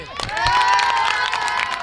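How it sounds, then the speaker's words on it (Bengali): At the Gabtoli cattle market, a crowd gathered around cows for Qurbani bursts into cheering and shouting with a few claps, many voices layered together close by for a brief moment. "চাঁদ আলী ভাইয়ের জন্য একটা হাততালি হবে"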